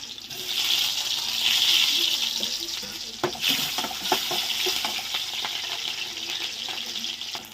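Ginger and garlic frying in a pan, a steady close sizzle with scattered clicks and scrapes of stirring throughout.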